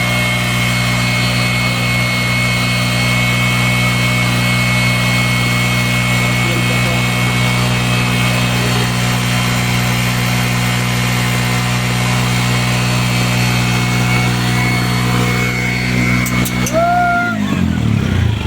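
A CNG auto-rickshaw engine idles steadily during a free service check, a loud, close, continuous drone with a droning hum that holds for most of the span and then winds down near the end.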